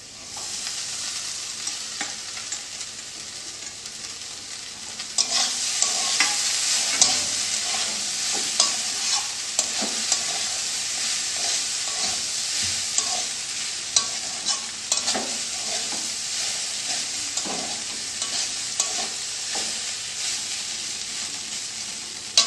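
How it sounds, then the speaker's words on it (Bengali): Flattened rice being stir-fried in a pan with boiled, fried potato and carrot for chira pulao makes a steady loud sizzle with frequent scraping stirs and light clinks throughout. "এখন এই যে চিড়াটা দিয়ে দিব।"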